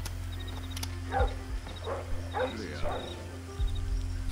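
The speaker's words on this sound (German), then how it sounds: "Ah, und ein Hund." A dog barking in the stealth video game Splinter Cell Blacklist, several short barks and yelps spread over a steady low game hum, with someone talking in between.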